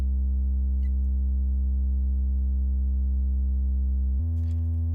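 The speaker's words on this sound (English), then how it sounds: "So sub sound." A continuous deep synthesized sub-bass sine tone holds steady, then drops to a slightly different pitch near the end, with no other sounds around it.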